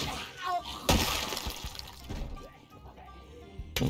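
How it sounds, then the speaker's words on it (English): Glass shattering in the Project Zomboid zombie survival video game, a sharp crash followed by scattered tinkling debris and a second brief break at the end, fairly loud and close. "Oh, this broken glass."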